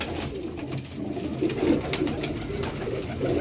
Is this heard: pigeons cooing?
yes